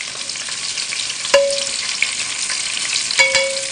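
Small chilies and fresh orange juice sizzle on a hot stove for shrimp, a steady close frying hiss broken by two sharp utensil clinks against the pan.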